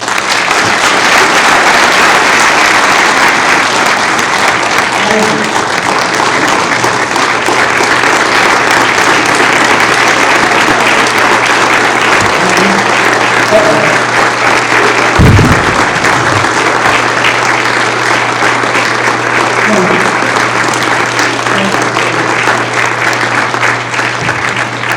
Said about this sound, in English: Let's give Ernie one more round of applause.